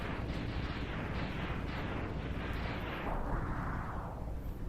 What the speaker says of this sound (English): That was a different explosion.